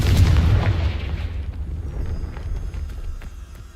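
A Confringo explosive spell blast from the video game Hogwarts Legacy booms loudly, its deep rumble decaying slowly over several seconds with faint crackles trailing off.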